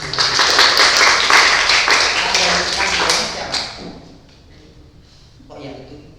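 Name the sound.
applause for Mas Jun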